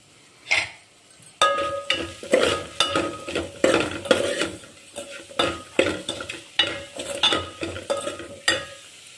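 Chopped onions with a pinch of salt being stirred in a pan, each spoon scrape and clatter against the metal landing in a steady rhythm over a soft sizzle, close and fairly loud, no voices.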